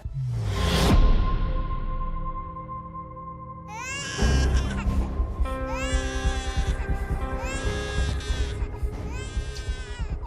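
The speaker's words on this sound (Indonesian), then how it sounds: "berisik banget sih tuh bayi" An infant cries in loud, wavering wails that repeat in several bursts, filling a room scene with a low background hum and no clear talk.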